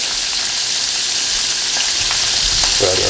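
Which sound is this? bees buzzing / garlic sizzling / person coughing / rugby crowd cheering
garlic sizzling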